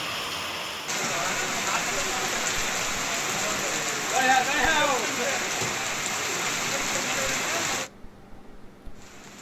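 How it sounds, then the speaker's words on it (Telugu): Heavy rain falls in Hyderabad as a steady, dense hiss, with a brief voice rising over it midway; the downpour cuts off abruptly near the end. "హైదరాబాద్ లో మరోసారి వర్షం దంచుకొట్టింది."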